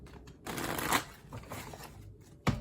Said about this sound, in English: I am getting so much better at shuffling these cards.